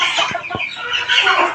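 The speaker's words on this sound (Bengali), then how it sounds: "দেখতেছেন একটা মুরগি আবার ঢুকতেছে।" A hen clucks close by on a poultry-rearing farm, a few short clucks with two sharp low thumps early on, and no talking.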